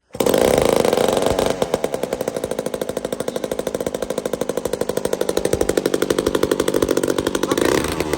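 An old chainsaw fitted with a round chain, freshly sharpened and running after years unused, revs hard at the start, then settles into a steady, loud, rattling two-stroke buzz that carries on throughout with no talking.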